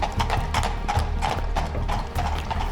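Horses trot along a rural road near a horse training school, their hooves clip-clopping in a steady, close rhythm with clear, sharp strikes throughout.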